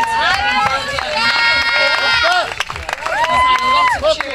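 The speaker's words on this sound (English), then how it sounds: "She's had a lot of cheering from the crowds today." A loud arena crowd cheers and shouts with whistles and high-pitched screams for a woman climber at a bouldering finals in Doha, rising in waves.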